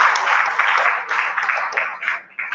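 Audience applause at a surveyors' congress in Lagos, a dense, steady wash of many hands clapping that fills the hall and tapers off near the end.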